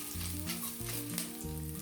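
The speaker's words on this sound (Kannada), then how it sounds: "ಸ್ವಲ್ಪ ಕರಿಬೇವನ್ನ ಹಾಕ್ಕೊಂಡು ಹುರ್ಕೊಳ್ಳಿ" Curry leaves and ginger frying in hot oil for a tempering, giving a continuous close sizzle with crackling and stirring through the short stretch.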